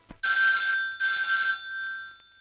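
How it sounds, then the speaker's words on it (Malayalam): A telephone bell rings twice in a film scene, each burst a bright, loud rattling trill with a short gap between, then a quieter tail in an otherwise silent room. "ഈ ഫോൺ നിങ്ങൾക്കാവും"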